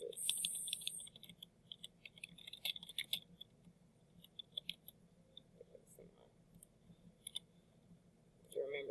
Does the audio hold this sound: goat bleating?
no